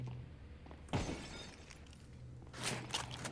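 Glass shatters loudly in a Counter-Strike match, a sharp burst of breaking panes followed by a scattered tail of falling shards, with further crunchy debris and game noise toward the end.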